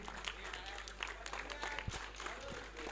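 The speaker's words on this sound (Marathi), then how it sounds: "मित्रांनो जोरदार टाळ्या द्या विराज सांगपाळ यांच्यासाठी" An audience at a village cricket tournament prize ceremony applauds a best bowler award: a dense, continuous wash of clapping with voices mixed in throughout.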